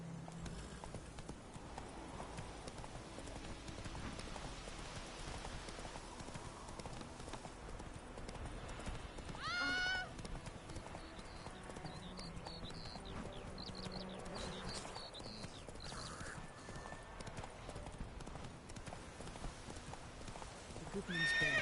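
Roach, a horse in a video game, clip-clopping steadily at close range with a whinny partway through, a faint voice now and then over the hoofbeats.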